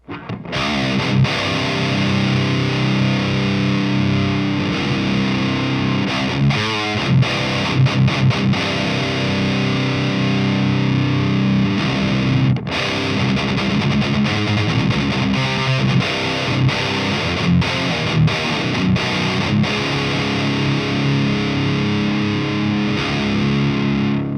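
Electric guitar played through an Amptweaker Tight Metal Pro 2 distortion pedal, heavily saturated metal riffs with palm-muted chugs and sustained chords, loud and continuous with brief stops between phrases.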